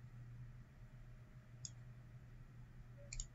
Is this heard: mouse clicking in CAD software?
yes